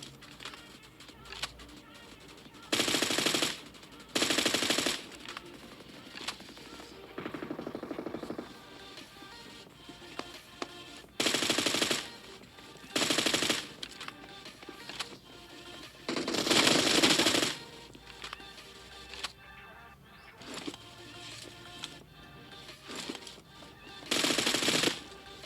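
Gunfire in the video game PUBG comes in repeated loud automatic bursts, roughly a dozen sharp rattling volleys spaced across the stretch, with quieter game ambience between them.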